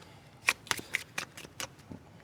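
A deck of playing cards being shuffled during a close-up magic trick, giving a quick series of six or seven crisp riffling bursts at close range, with no talking over them.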